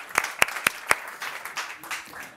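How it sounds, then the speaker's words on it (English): A handful of sharp, distinct claps from a small audience at a manufacturing forum session, four crisp hits in quick succession that then thin into softer, scattered clapping and room noise. "Do we want to have a round of applause for the lead wall,"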